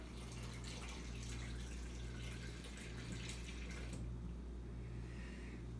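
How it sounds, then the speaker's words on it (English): Filtered water pours steadily into a mixing container in a kitchen while protein bars are being prepared, a continuous splashing stream that runs unbroken, close and moderately loud. "I'm gonna step aside here and put some more water, because we're gonna have to mix this baby up"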